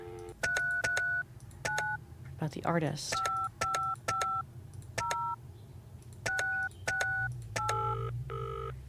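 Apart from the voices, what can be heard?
telephone dialing in a video game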